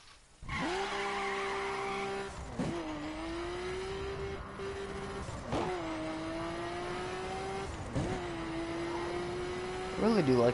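A car in the video game The Crew drives fast through corners, its engine droning steadily with pitch dips and rises as it shifts and skids, running continuously for about ten seconds under faint talk.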